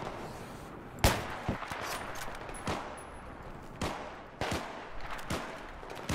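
Gunfire in the video game Battlefield 3 comes from below the player as a string of separate sharp shots, some close and punchy and others fainter, spaced irregularly over ambient background noise.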